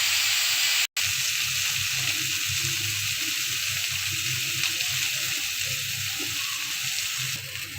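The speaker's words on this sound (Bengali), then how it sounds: "ফুলকপি আলুটা ভেজে নেব" Cauliflower and potato pieces fry together in a pan with turmeric and salt, giving a steady, loud, close sizzle that holds without a break.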